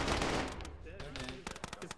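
Rapid bursts of machine gun fire in an Arma combat scene, loud and dense at first, then sharp scattered shots, with a voice briefly audible underneath.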